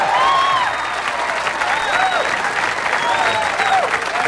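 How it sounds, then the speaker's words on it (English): A studio audience applauds steadily and loudly throughout, with a few whoops and voices rising out of the dense clapping. "I think that's about enough applause."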